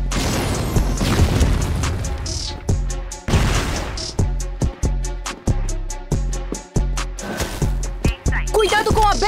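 Loud booming grenade blasts in the video game CrossFire in quick succession, followed by rapid repeated gunfire-like bangs, dense and close, with shouting voices mixed underneath.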